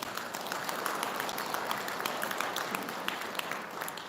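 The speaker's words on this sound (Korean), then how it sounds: "축하의 박수 부탁드립니다" A congregation at a Buddhist dharma service applauds newlyweds, a steady, moderately faint wash of clapping heard from a distance throughout.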